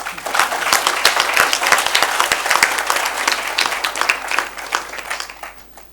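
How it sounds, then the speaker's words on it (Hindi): An audience at a book launch claps loudly for itself, a dense burst of hand claps with some sharper individual smacks, sustained then tapering off near the end. "एक बार अपने लिए जोर से ताली बजा दी"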